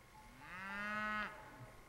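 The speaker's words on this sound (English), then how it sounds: "Got some cattle calling up the road here." Cattle on a snowy mountain ranch low a single long moo from up the road, a clear call rising and swelling for about a second before breaking off, heard alone at moderate distance.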